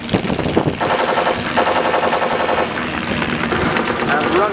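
Simulated machine-gun fire rattles during an airshow dogfight display of SE5 biplanes chasing a Junkers CL1, rapid bursts over aircraft engine noise, with a commentator talking over it.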